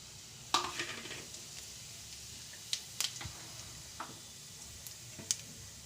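A teaspoon of cumin seeds drops into hot oil left from frying brinjal and gives a faint frying hiss with sparse, sharp pops and crackles at irregular intervals.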